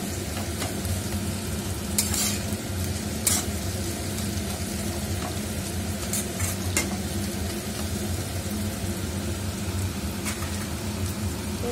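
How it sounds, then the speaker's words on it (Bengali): A spoon scrapes and stirs mashed pea paste into a vegetable mixture in a sizzling pan, giving continuous close frying hiss with scattered sharp clinks and scrapes of utensil on metal, with no voices. "এরপর দিয়ে দেব মটরশুঁটি বাটাটা, দিয়ে আবার একটু ভালোভাবে নেড়ে নেব"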